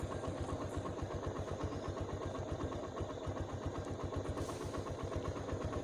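A motorcycle nearing 50,000 km idles on a long road trip, its low engine thrumming in a steady, even pulse throughout, close and continuous with no voices.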